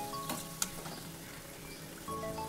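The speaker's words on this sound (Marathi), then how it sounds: "आणि मग ती शेवटी तळून काढायची." Karanji, sweet filled pastries, deep frying in hot oil, a steady low sizzle running throughout with a faint clink partway in and no voices.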